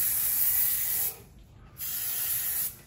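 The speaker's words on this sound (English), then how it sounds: "spray it off." Two long hissing bursts of cleaner sprayed from an aerosol can onto a transmission gasket, separated by a short pause, close and fairly loud.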